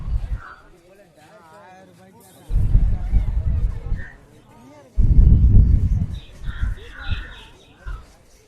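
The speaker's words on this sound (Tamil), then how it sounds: "இது வெள்ளை புறா." Caged birds, including white pigeons, at the Pallavaram weekly animal market in Chennai give off brief chirps and calls in the background, partly masked by loud bursts of nearby talking.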